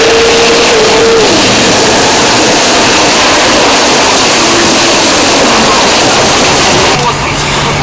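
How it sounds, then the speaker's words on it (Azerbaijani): Cars drive across a field to get around a road washed out by floodwater, their engines a loud, continuous rumble with rushing wash throughout and voices underneath. "avtomobillər yolu keçə bilmədiyinə görə məcbur olub sahəsindən keçəcəklər"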